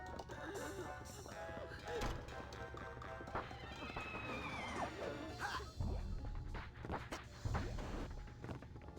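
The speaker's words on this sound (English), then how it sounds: "Can't you hear his mighty steed?" A horse's hooves clop and thud in the video game Psychonauts, mixed with crashes, whinnies and busy game effects, all fairly faint and cluttered.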